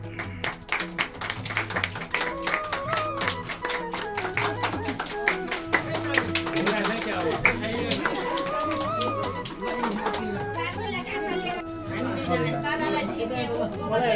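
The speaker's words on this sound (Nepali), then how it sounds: "ताली" Wedding guests clapping together, a steady patter of hands mixed with lively chatter and loud music throughout, fairly close and busy.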